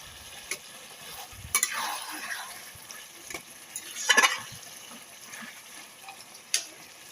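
Potatoes are stirred into Bengali-style chicken kosha frying in spiced oil, giving a soft, steady sizzle broken by a few sharper spoon scrapes.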